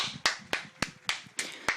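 A single person claps close into a microphone during a Soyuz launch broadcast, seven sharp, evenly spaced claps ringing loud and near.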